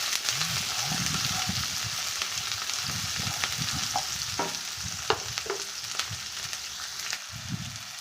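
Finely chopped ingredients sauté in a pan for a Tamil-style sura puttu, with a steady close sizzle and irregular stirring scrapes and taps throughout, no talking.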